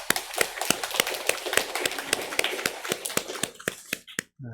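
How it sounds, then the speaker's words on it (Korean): A church congregation at a Sunday service claps after a hymn, a loud, fairly close burst of rhythmic, evenly spaced claps that keeps a steady beat before stopping abruptly. "우리 하나님께 감사와 영광의 박수를 올려드리겠습니다"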